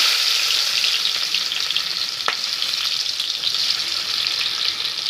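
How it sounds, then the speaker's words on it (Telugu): Onions fry in a pan for a taro root stew, giving a dense, continuous sizzle that stays loud and close throughout, with one faint clink partway and no voices. "ఎర్రగడ్డ అయితే ఎర్రగా వేగాలి."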